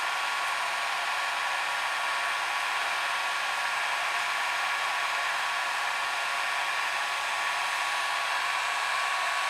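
A Tacklife 1500W heat gun blows hot air on a low setting, a steady, even, close hiss and whoosh that holds unchanged throughout with no talking.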